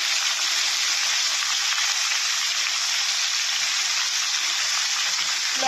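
Boiled elephant foot yam pieces fry in hot oil with turmeric and salt, giving a loud, steady, close-up hissing sizzle that runs unbroken throughout.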